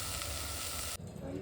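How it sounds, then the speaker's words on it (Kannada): Sprouted horse gram frying in a pan gives a steady, bright sizzle, close and fairly quiet, that cuts off abruptly near the end and leaves a softer, duller crackle. "ಇವಾಗ ಮೊಳಕೆ ಕಾಳು ಚೆನ್ನಾಗಿ ಫ್ರೈ ಆಗಿದೆ"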